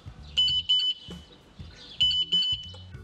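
Sym Jet X 125 scooter emitting repeated electronic warning beeps, two short pairs of high, steady tones separated by a pause, loud and close with no talk.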